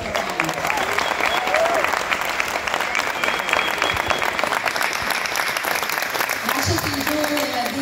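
Loud, sustained applause fills a school hall for third-grade pupils at a 2014 Hanukkah ceremony, steady dense clapping from a large crowd throughout.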